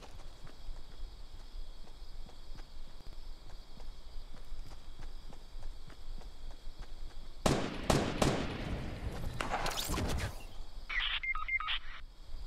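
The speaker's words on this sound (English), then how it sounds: "I can hear like gunshots and stuff" Gunfire in the Fortnite video game: a burst of loud, sharp shots cracks out in quick succession partway through, after a stretch of steady game ambience, with electronic beeping tones following.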